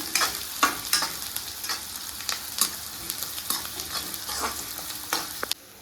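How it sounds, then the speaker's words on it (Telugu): Chopped green chillies and onions fry in a hot pan, with a steady crackling sizzle broken by repeated sharp scrapes and clinks of a spatula stirring, close and fairly loud, with no talking. "3 పచ్చిమిరపకాయలు కోసి పెట్టుకున్నా. అవి కూడా వేసిన. కొద్దిసేపు మంచిగా ఫ్రై కావాలి."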